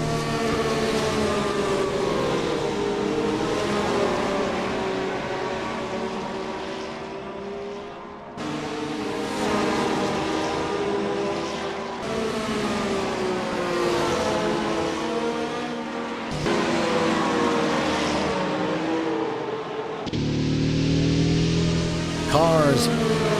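Race cars bunched together on a track at a Japan Grand Prix sim race, a dense, continuous engine whine with shifting pitch and abrupt cuts between segments, moderately loud.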